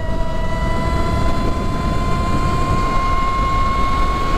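An electric dirt bike, the 2024 Pro SS, runs at full throttle with a loud, steady high-pitched motor whine over strong rumbling wind and road noise throughout.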